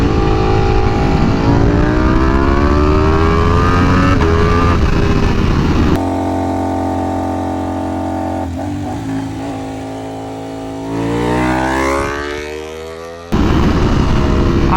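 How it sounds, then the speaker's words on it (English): A V4R motorcycle with a tuned aftermarket exhaust revs hard and loud nearby, rising and falling through repeated climbs in pitch, with a sharp cut near the end before it snaps back up. "I want people to hear this bike now that it has an exhaust and it's tuned"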